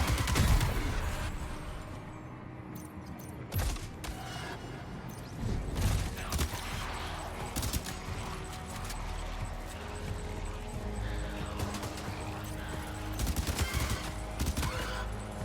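Gunfire in the Death Stranding 2 video game, a dense crackling fusillade of shots in fast irregular bursts over a loud rumbling game soundscape, close and sustained through most of the clip with little talk.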